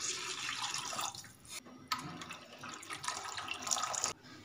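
Water pours from a glass into a pan of garlic for broccoli soup, splashing in several close bursts separated by short pauses, with no talking.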